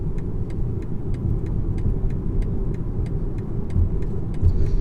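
A steady low engine drone from a 2019 BMW 320i with a 2-litre petrol engine on the move, smooth and even, with faint regular ticking above it.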